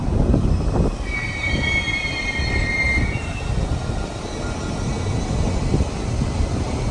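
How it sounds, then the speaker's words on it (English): A train rumbles across an overhead track, a loud, continuous low roar that persists throughout, with the wheels letting out a brief high squeal early on; no one speaks. "See, we got a train going on top"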